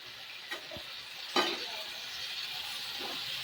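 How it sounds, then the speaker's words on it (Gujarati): Broad bean (sem fali) vegetable curry cooks in a covered pan with a soft, steady sizzle, broken by a couple of faint clicks or taps, quiet and close. "શાક સરસ ચડી રહ્યું છે"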